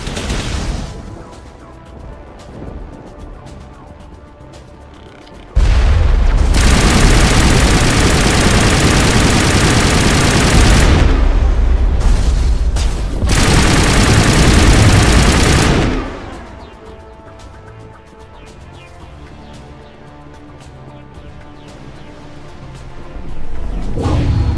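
Sustained bursts of automatic gunfire from the Mass Effect video game, loud and dense in two long volleys separated by a short pause, with quieter ambient game sound before and after.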